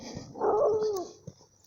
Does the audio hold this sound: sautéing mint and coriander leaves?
no